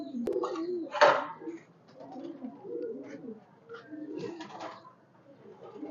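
Pigeons cooing on a pigeon farm of high-flyer birds with red necks, several soft, rounded coos repeating in a relaxed rhythm close by, with occasional sharper bird calls and a voice speaking between them.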